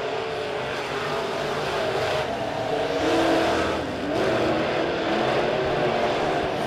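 B-Modified race cars roaring around a dirt speedway at Springfield Raceway, a steady loud engine drone that swells and fades slightly as the pack passes, with no voices over it.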